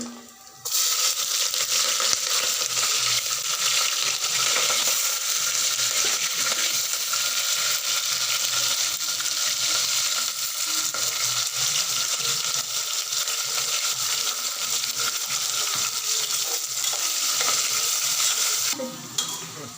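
Vegetables, chillies and tomato for rice bath fry in a pan with a continuous close hiss and sizzle, punctuated by rapid scraping and stirring clatter throughout, fairly loud and steady, with no talking.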